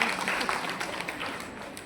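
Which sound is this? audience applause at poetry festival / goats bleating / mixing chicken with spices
audience applause at poetry festival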